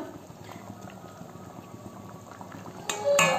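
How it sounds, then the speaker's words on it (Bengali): Fish curry gravy for pabda macher jhol boils steadily in a pot, a continuous soft bubbling that swells louder near the end, with no one speaking. "ঝোলটা ফুটে উঠেছে, এবার আমি এক এক করে মাছগুলো দিয়ে দেব।"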